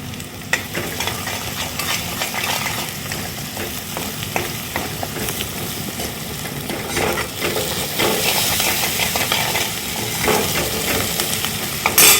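Butter, red chili powder and pav bhaji masala are stirred in a hot pan for pav bhaji, a steady loud sizzle with scraping stirs running throughout.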